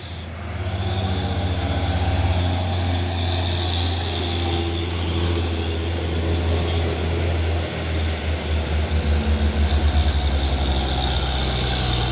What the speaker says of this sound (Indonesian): Dua unit truk tronton Hino jumper ya